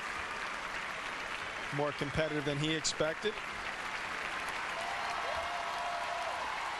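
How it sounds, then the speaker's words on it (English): Tennis crowd at Roland Garros 2000 applauds in a swelling ovation as a departing player leaves the court, steady clapping throughout with a commentator talking over it. "who will get and deserves a nice ovation as he leaves"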